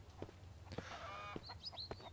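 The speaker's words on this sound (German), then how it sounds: "Ich höre Hühner." Chickens clucking in the video game Mist Survival, several short clucks and a higher squawking call over low background hum, moderately close.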